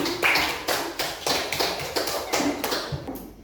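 Classroom applause for a student discussion group, a run of sharp rhythmic claps and taps filling the room at moderate level, fading off at the end.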